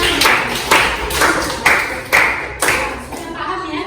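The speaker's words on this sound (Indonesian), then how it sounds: "Tepuk tangan buat Fazila dan kelompoknya." A classroom claps for a student named Fazila and her group, a short burst of brisk, fairly close clapping with a few sharp accents that trails off after a few seconds.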